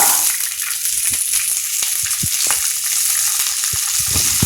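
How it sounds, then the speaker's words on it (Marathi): Green peas sizzle and fry steadily in hot oil in a pan on the gas stove, a loud continuous crackle with occasional stirring knocks, no voices. "आता मी हा मटार त्यामध्ये घालते."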